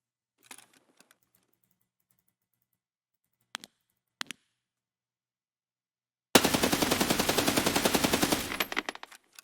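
An MDR .308 rifle fires in Escape From Tarkov, a loud sustained burst of rapid shots lasting about two seconds after a few quiet clicks and handling taps.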